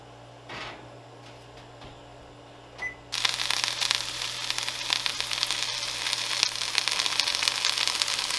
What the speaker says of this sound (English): I'm making dinner, so the food's frying.